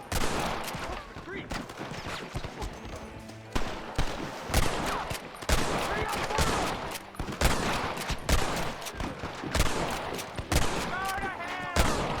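Gunfire in the video game Red Dead Redemption, with repeated sharp shots and volleys cracking throughout over a busy, noisy game soundtrack.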